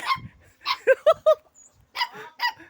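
A dog barks in a quick series of sharp yips and barks that stand out loudly against a quiet background, with a short pause in the middle of the run.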